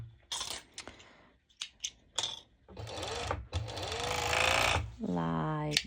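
A sewing machine stitches fabric for a sporty top in short, loud, buzzing bursts with pauses between, ending in a longer steady run and a brief whirring wind-down.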